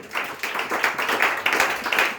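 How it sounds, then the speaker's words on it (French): Church congregation clapping together in a lively, rhythmic burst of applause, loud and close, with regular pulses of hand claps throughout. "On acclame le Seigneur une fois de plus."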